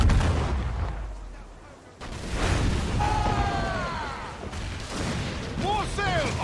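Ship cannons boom in the Assassin's Creed IV Freedom Cry video game during a naval battle, with heavy blasts and rumbling aftermath mixed with shouted crew voices and whistling projectiles.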